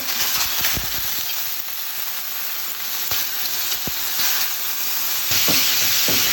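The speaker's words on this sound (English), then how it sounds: "This pan's been preheating on medium heat, and we're gonna go ahead and quickly add in that meat." Pork meat hits a pan of olive oil preheated on medium heat, setting off a loud, continuous sizzle and crackle, with a few sharp pops and the scrape of stirring.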